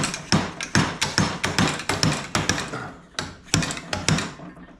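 Repeated hammer blows on a rusted-in seal of a 43-year-old motorcycle: about a dozen sharp, loud metallic thuds in an uneven rhythm, each ringing briefly before the next strike.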